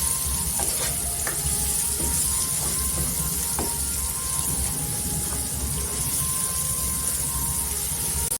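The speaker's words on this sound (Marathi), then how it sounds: "मसाले आहे ना परतून घ्यायचं तेलावर" Ground spices including Kashmiri red chili powder sautéing in oil for soybean bhurji, a steady hissing sizzle with a few faint spoon scrapes, moderately close and without talk.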